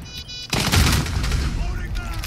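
Gunfire in Rainbow Six Siege: a sudden loud burst of rapid shots kicks in after a quiet moment and keeps crackling and rumbling close by, with faint game voices around it.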